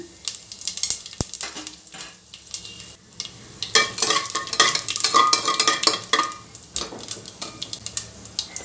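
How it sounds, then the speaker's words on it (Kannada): Whole spices such as fennel, bay leaf, stone flower, cinnamon, clove and cardamom crackle and sizzle in hot oil for a spicy chicken fry, with clattering stirring against the pan that grows busier and louder partway through. "ಎಣ್ಣೆ ಕಾದಿದೆ ಮಸಾಲೆ ಪದಾರ್ಥ ಹಾಕ್ತಾಯಿದ್ದೀನಿ"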